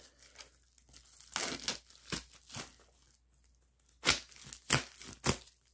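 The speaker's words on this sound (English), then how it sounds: "So let's do a cut test, starting with the Amicus." A Kizer Amicus pocketknife slices through a heavily taped cardboard package, giving a series of sharp crinkling rips and tearing bursts in clusters with short pauses between, close and fairly loud.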